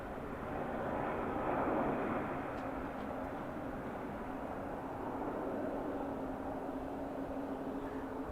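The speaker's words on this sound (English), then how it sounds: "There's Pilatus PC-12 heading off to Merced Advanced Air." Distant drone of an aircraft passing near LAX, likely a Pilatus PC-12 turboprop, a steady broadband rumble holding at even loudness throughout with no talking.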